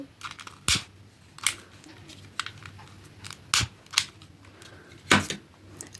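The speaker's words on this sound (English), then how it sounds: "now cut the yarn and pull that" Scissors snipping through crochet yarn, a few short, faint clicks and snips spaced apart over quiet room noise.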